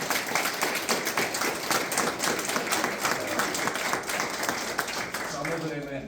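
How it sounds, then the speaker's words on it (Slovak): Sustained audience applause at a school's 95th-anniversary celebration, dense even clapping filling the hall for several seconds before tapering off at the end, with a voice briefly audible as it fades. "to si zaslúži potlesk."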